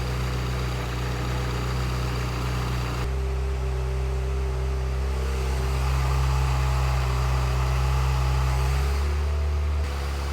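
A Ferrari F355 engine idles steadily at close range as its throttle is set to 1020 RPM. The low hum shifts pitch slightly once partway through and then holds even, and nobody speaks.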